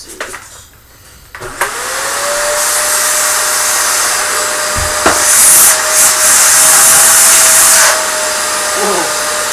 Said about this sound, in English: Maybe I should plug this vacuum in and suck them out.